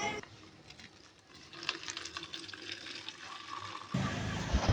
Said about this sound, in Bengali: এখন আমি একটা চালুনে ঢেলে পানিটা ঝরিয়ে নিব